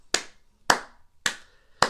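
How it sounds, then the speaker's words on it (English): Four sharp, crisp hand claps evenly spaced about half a second apart, close and dry with silence between, like a teacher's rhythm pattern in a first-grade music echo game. "And students would clap back."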